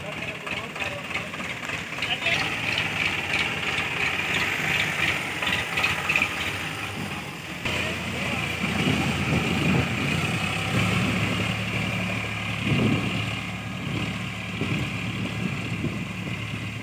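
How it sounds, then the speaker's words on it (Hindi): A tractor engine drones steadily at mid-distance while ploughing a field of dhaincha, a continuous low mechanical hum with a slight shift partway through. Voices talk over it throughout. "ये जा रहा है लेके ट्रैक्टर अब।"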